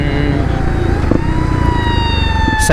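A wailing siren sweeps up and down over a loud, rumbling 2018 Kawasaki KLX250 dirt bike engine that runs close by the whole time.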